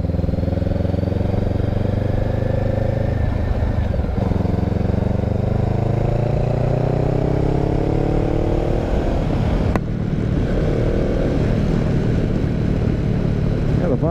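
A Honda CB500X motorcycle riding on a road, its engine droning steadily loud and close with pitch rising and falling through gear changes, wind noise over it, and someone talking at times.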